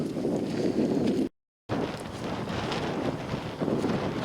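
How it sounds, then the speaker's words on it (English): Gusty wind buffets a microphone outdoors in a crosswind, a loud, continuous low rumble that cuts out briefly for a moment of silence and then resumes just as strong. "This is why sometimes you don't get a video, because it's just wind."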